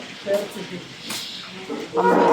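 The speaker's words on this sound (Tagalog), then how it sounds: "Kambing." Goat bleats sound nearby, one early and a louder, drawn-out call at the end, with quieter farmyard noise between.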